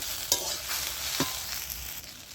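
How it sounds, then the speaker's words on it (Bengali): Okra frying in a wok, stirred with a spatula after the lid is lifted, giving a steady broadband sizzle with a few sharp scraping strokes near the start and middle, close and moderately loud. "ঢাকনাটা খুলে আমি আবার নেড়ে চেড়ে দিচ্ছি একটু।"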